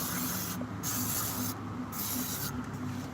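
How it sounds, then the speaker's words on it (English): A spray can aimed at one's own body makes a continuous close hiss, broken by brief gaps into three long bursts. "Spray myself with sucker repellent."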